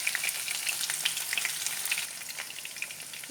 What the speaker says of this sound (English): Now you have to leave for a few minutes so that it gets fried one side